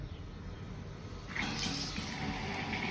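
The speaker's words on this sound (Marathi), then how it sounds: "पाणी चालू केलं," Water from a tap runs into a toy plastic plumbing setup, a faint steady hiss that swells into a louder rushing gush midway and continues evenly; no voices.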